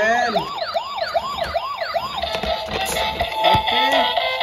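A toy army car's electronic siren wails in repeated rising-and-falling sweeps, loud and close, with a busier mechanical clatter joining toward the end.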